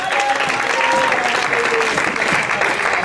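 A church congregation clapping hands in praise, a dense, loud burst of steady applause with voices faintly mixed in.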